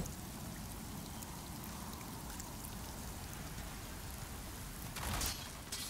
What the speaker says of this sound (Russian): где постоянно плохая погода, идет дождь